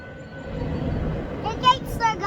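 A long freight train hauled by six locomotives (two Norfolk Southern, one Union Pacific, three BNSF, led by NS 9430) rolls past a crossing with a low, continuous rumble, and faint voices rise briefly near the end.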